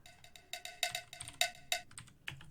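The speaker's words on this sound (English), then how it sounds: "Oh yeah, and then of course some cowbell." A cowbell sample in an electronic music production, struck in a quick, uneven run of bright metallic clanks, sometimes in doubled hits, loud and dry with no voices.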